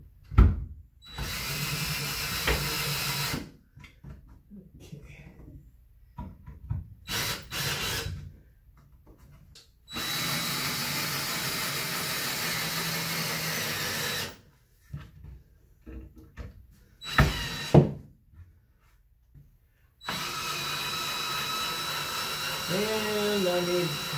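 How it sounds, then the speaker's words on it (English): Loud bursts of a power drill whirring into metal studs in long stretches, separated by quiet pauses and brief handling clatter. "it's time to drill into the metal studs"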